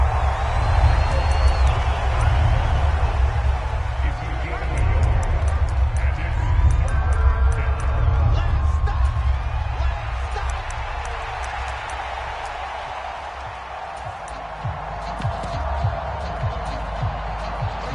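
Stadium crowd in an American football video game, a broad roar of cheering and whoops that swells and settles across the stretch, with game commentary voices talking over it.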